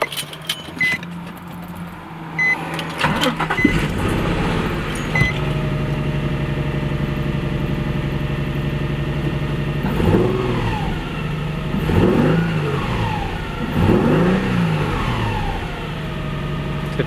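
A Nissan 350Z engine starts and idles steadily nearby, with a series of rising revs around three blips, preceded by jangling keys and clicks.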